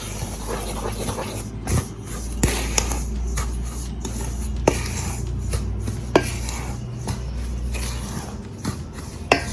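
Cornmeal pudding batter with salt, cinnamon, nutmeg and allspice being mixed in a bowl: steady scraping and stirring with scattered sharp clinks of the utensil against the bowl, close and fairly continuous.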